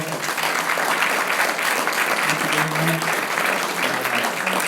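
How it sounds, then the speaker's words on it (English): A conference audience at a wildlife conservation summit gives a steady round of applause for panel speakers, dense clapping throughout with faint voices murmuring underneath. "Let's give the speakers a round of applause."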